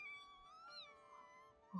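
A cat in an anime episode meows in a long, drawn-out, wavering cry, clear and alone, with a faint sound coming in at the very end.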